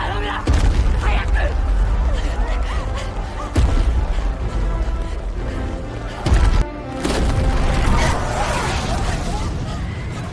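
Heavy booming tank cannon blasts from the film Godzilla Minus One ring out in a dense, rumbling battle mix, with several loud thuds and crashes spread across the stretch.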